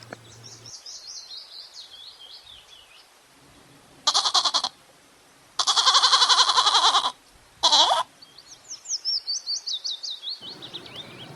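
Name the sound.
goat bleating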